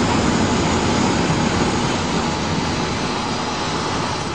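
Small single-engine airplane in flight during spin training near an airfield, a loud steady engine and wind roar filling the cabin continuously with no talk.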